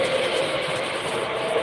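A model Christmas train runs steadily along its track, a continuous close rolling rumble with faint rail clatter and no talking over it.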